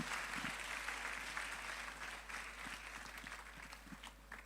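An audience claps steadily, a dense wash of many hands at moderate distance, sustained for several seconds and tapering slightly toward the end.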